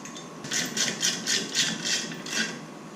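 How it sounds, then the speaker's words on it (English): A wrench cranks down an M8 bolt to push a brake rotor off an Evo X hub, giving a steady run of rhythmic rasping strokes, close and fairly loud, with no talking. "And as I start cranking it down, I can already see the side starting to pop out"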